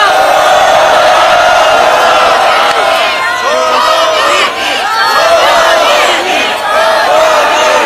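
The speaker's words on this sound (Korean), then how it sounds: "큰 박수와 함성으로 청해 듣겠습니다" A large crowd at a political rally roars with sustained cheering and whooping, loud and continuous, with shouting voices mixed throughout.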